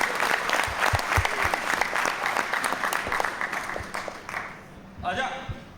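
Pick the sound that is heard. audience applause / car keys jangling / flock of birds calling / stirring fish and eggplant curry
audience applause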